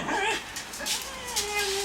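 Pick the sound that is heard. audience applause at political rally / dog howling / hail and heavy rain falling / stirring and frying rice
dog howling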